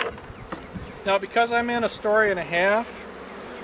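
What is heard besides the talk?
honeybees buzzing while being installed in a Langstroth hive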